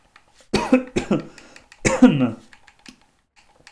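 A few sharp, harsh coughs in quick succession, close by, with short pauses between them and a quieter stretch after.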